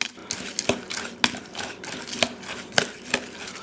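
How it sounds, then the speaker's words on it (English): Overnight oats stirred in a container with homemade vanilla, heard as a close series of sharp clinks and scrapes of a utensil against the sides, repeating about twice a second against a low background, with no talking. "Go in here, give them a nice stir."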